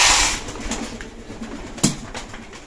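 Pigeons gather for feed at a home loft, giving soft, low cooing amid a faint rustle, with one sharp flutter-like burst partway through and no talk.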